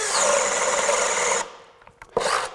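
A Craftsman V20 brushless 1/2-inch hammer drill bores into wood with a loud, steady whine, then cuts out and spins down, followed by a brief rattle and a short restart.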